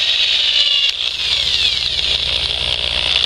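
A power drill bit bores sideways into a PVC pipe to shape a flute's fipple, a loud continuous high whining grind with a steady motor drone close by, pitch wavering briefly midway.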